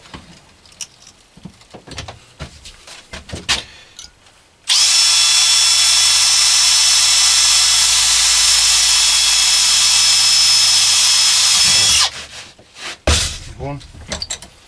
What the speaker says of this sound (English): Alright, now we'll drill these.